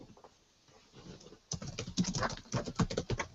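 Rapid clattering keystrokes on a computer keyboard, starting quietly and then growing louder and denser after a brief pause, close and alone with no voices.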